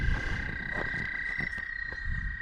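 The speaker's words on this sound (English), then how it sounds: "You should be able to hear the frogs over there." Frogs call from a pond or wetland along the Bluebell Trail at Whiterock Conservancy, a steady, high, trilling chorus at a moderate distance with soft outdoor ambience and no talking.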